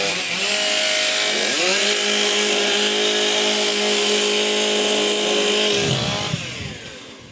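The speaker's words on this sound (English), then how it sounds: "Warm up your saws." Several Stihl MS661 chainsaws, 5.4 kW machines, rev loudly and steadily together at a wood-chopping competition, engines climbing and holding high before dropping away near the end.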